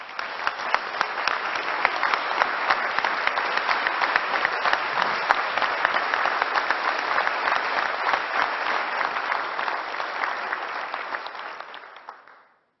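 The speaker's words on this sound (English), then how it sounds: "Please give Lauren a round of applause for her hard work and her commitment." Steady applause from a large audience at a governor's budget address fills the whole stretch, holding even before fading out at the very end.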